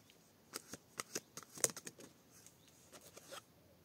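A deck of oracle cards is cut and handled, giving a quiet series of soft, close flicks and taps with one sharper snap in the middle.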